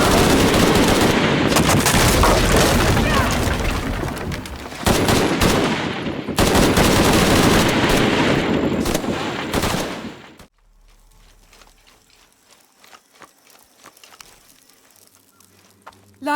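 Sustained automatic gunfire fired at Lara Croft in a video game cutscene, loud and dense for about ten seconds with a brief gap, then cutting to quiet faint background sound.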